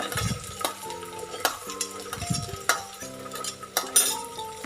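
Chopped onion pieces frying in tempering oil for peas uppittu, soft sizzling under repeated metal spoon clinks and scrapes against the pan, close-up with a few sharper ringing knocks and no voices.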